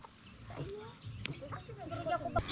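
Goat with a bloated belly, giving faint, short bleats close by amid quiet outdoor background, with a voice speaking nearby.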